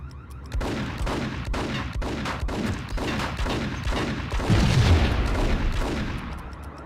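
Dense, continuous gunfire from the video game Max Payne, with rapid overlapping shots and heavy booms filling the whole stretch and swelling louder near the end, with no talking.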